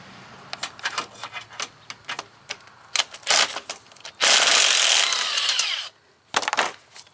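A ratchet fitted with an 8mm socket removes a small bolt low on the intercooler of a 2017 Ford Escape, giving quick bursts of close, sharp clicking followed by a loud, rushing noise that lasts a couple of seconds.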